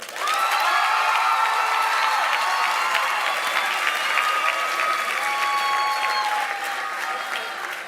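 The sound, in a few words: audience applause and cheering at graduation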